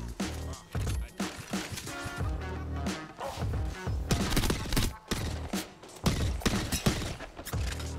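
Gunfire rattles through an Apex Legends Season 17 firefight, dense bursts of rapid shots and impacts, loud and close, with brief gaps between volleys.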